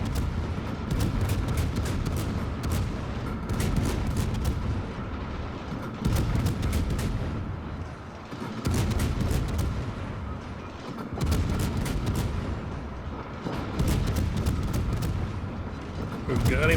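Salvos from warship turrets in World of Warships, with the French Tier-10 cruiser Colbert in the battle, roll out as repeated loud booming volleys in clusters for several seconds, with rumbling gaps between the bursts.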